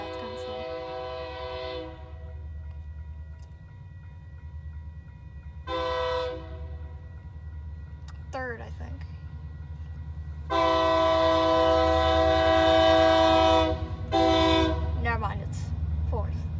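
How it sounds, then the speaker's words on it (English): A CP 7015 locomotive trailing on a manifest freight train with KCS and UP units sounds its horn: loud, sustained chord blasts, one short and one long, over a steady low rumble of rolling rail cars, with voices nearby. "Oh, we got horn action."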